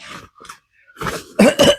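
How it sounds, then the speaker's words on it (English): A man in a used Ford Focus coughs several times in quick succession up close. The coughs grow louder and rougher toward the end, with some throat clearing. "this car that's making me cough"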